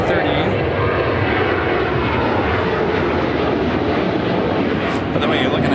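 A Delta Airlines Boeing 717-200 jet at Chicago O'Hare Airport gives a loud, steady engine roar with no gaps, heard close over the full stretch.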